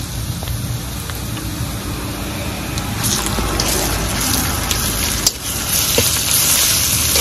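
Garlic paste dropped onto fried onions in hot oil, sizzling loudly and steadily, close up, with a brief clatter of stirring and no voices.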